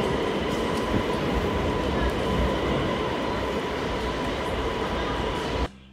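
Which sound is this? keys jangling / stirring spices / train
train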